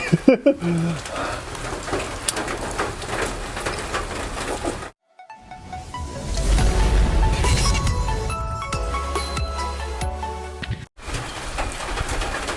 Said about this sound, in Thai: ฝนตกพี่น้อง